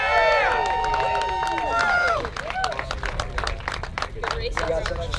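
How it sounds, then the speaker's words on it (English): A crowd claps and cheers for the riders at an outdoor Onewheel race event near Boulder City, Nevada, dense steady applause under whoops and excited voices, close and lively throughout. "Let's give all these races a round of applause"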